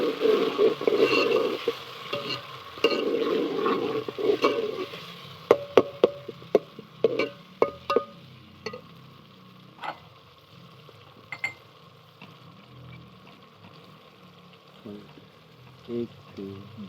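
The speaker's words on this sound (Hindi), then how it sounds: "जा रहा है टमाटर का पेस्ट इसमें डाला। थोड़ा सा भूनेंगे।" Tomato paste frying in a pan for beef curry, with soft sizzling early on, then scattered knocks and clinks of a spoon stirring against the pan.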